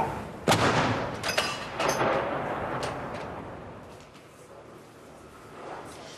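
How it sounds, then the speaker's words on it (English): A 21-gun artillery salute for King Charles in Edinburgh: several heavy booms crack out early, and their rumbling echoes roll away into a fading outdoor ambience. "A 21-gun salute was then carried out to welcome the new king to Edinburgh."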